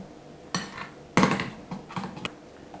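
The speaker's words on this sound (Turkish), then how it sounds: "Şöyle karıştırdım." A spoon stirring honey into a güllaç cream mixture in a bowl, producing a few close clinks and scrapes against the container, with one louder knock among scattered lighter taps.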